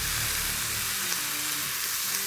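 Bacon frying on a flat top griddle, a steady, bright sizzle and crackle of fat hissing continuously and close, with no voices.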